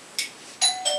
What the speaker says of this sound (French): il fallait bien que Tom sonne à la porte